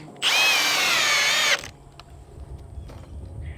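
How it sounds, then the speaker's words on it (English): A cordless drill whines at high speed for just over a second, driving a screw into wood at a cabin, then cuts off, leaving quiet background noise. "But here's the drill."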